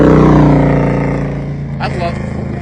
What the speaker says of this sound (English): I love motorcycles. That was a beautiful Harley.